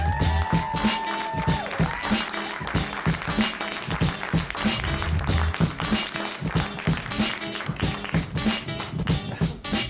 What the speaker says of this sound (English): I need you guys to give him a warm round of applause